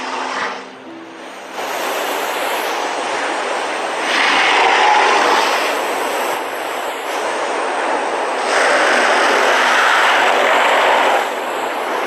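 Lambeosaurus calls from the Path of Titans game, heard as breathy, exhaled roaring bursts that swell and fade in long waves over a steady rushing bed, loud and with no talk.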